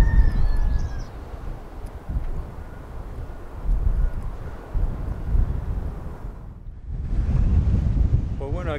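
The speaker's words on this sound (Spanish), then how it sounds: "al igual que estoy yo resguardado del viento que hace aquí en Tarifa" Strong wind gusts buffet the microphone at Los Lances beach in Tarifa beside a bird observatory wall, a loud, continuous roar that swells and drops, briefly easing before surging again.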